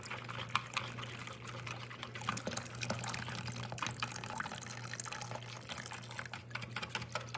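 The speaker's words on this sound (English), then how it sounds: "Now I'm going to add some hot water, and that's going to dissolve the gelatin." Hot water poured into a gelatin and glycerin mixture for a homemade gel plate, a steady close splashing trickle running throughout with a low hum beneath it.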